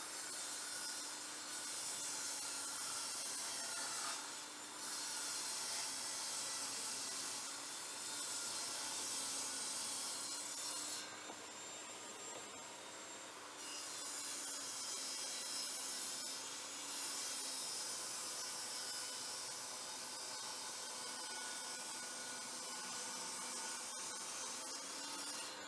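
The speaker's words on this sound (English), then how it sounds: "I'm going to do all the cuts on my table saw for the Saxton blade." A table saw fitted with a Saxton blade rips through wood in repeated, loud cutting passes. The whine rises and falls as each board feeds through, with brief lulls between cuts and no talking.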